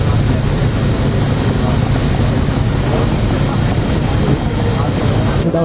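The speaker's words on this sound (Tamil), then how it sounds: "விமானப்படையினர் ஹெலிகாப்டர் மூலமாக நிவாரணப் பொருட்களை கொண்டு சென்ற காட்சிகளே இவை." A Sri Lanka Air Force Mi-17 helicopter carrying relief supplies gives a loud, constant, dense rotor and engine roar that fills the whole stretch without a break.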